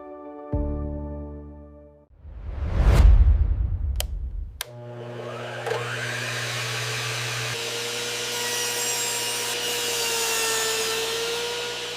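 A compact mini table saw spins up with a rising whine, cuts through wood with a steady, bright buzzing roar, then holds a sustained whirring tone near and loud.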